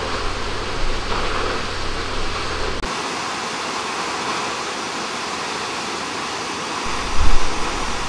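The Krimml Waterfalls in Austria roar with a steady, loud wash of broadband water noise, constant throughout with a brief low rumble near the end.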